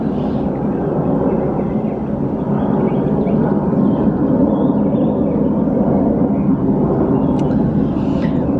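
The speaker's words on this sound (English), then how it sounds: "another plane, y'all. We're like right by the airport." An airplane passes close overhead near an airport, a steady broadband roar that holds at full strength for the whole stretch, with no talk over it.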